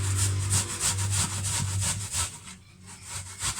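Onion is grated on the fine side of a hand grater, producing a close, rhythmic series of rasping strokes, about eight back-and-forth scrapes at an even pace, with no talking.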